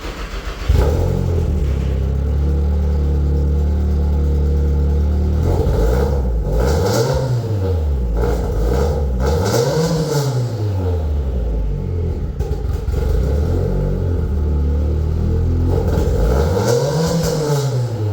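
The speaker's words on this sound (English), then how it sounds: "one last cold start and some revs with the not stock but not great exhaust." Nissan 240SX (S13) with an aftermarket ISR Performance exhaust, starting cold and idling with a deep rumble, then blipped through several sharp revs that rise and fall, loud and close.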